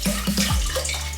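Spring water poured into a pot, a short, steady gush of running water with small bubbling notes, close and moderately loud, no talk.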